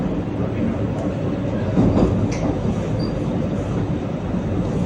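The Chennai–Mysuru Vande Bharat Express rolls slowly through a station without stopping, giving a continuous low rumble with faint wheel clatter and light squeals, heard from on board at a steady level.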